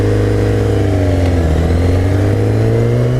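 A 2015 Kawasaki Ninja ZX-10R held at full throttle, its engine a loud, continuous high-revving roar with a gradually rising pitch, heard close from the rider's seat with no talk.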